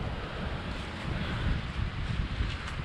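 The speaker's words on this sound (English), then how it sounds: "Most of the wind comes from this direction and hits this corner right here in front of me." Wind blows across a tarp camp in autumn snow as a steady, broad rushing roar with buffeting microphone noise that rises and falls a little, and no talking.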